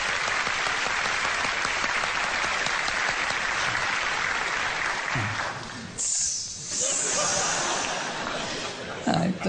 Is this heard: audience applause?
yes